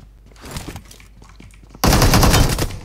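A loud AWM sniper rifle shot in PUBG Mobile on the Erangel map erupts suddenly and stays dense and heavy to the end, following a quieter stretch of game noise and scattered faint clicks.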